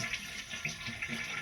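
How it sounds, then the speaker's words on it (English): Faint, brief gurgle and rush of water from a water-saving toilet bowl emptying after a flush, heard close and quiet. "And now the whole bowl is going to empty out"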